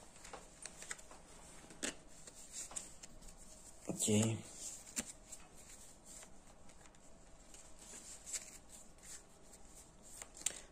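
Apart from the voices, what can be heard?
playing cards being shuffled for board game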